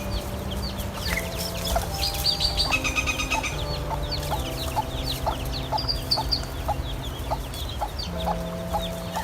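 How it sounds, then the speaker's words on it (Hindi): A hen clucks repeatedly in short, evenly spaced calls, loud and close, with steady tonal background sounds and other bird chirps around it. "ये है मुर्गी। मुर्गी को इंग्लिश में हैन कहते हैं।"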